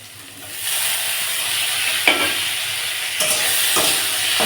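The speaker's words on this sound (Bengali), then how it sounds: "আলুটা ভাজা ভাজা হচ্ছে" Potatoes fry and are stirred in a pan with a little turmeric while a home cook makes a morning potato curry, giving steady close sizzling with a few sharper scraping stirs and no talk.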